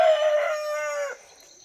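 A rooster crows once nearby, a loud drawn-out call that cuts off abruptly, with no voices.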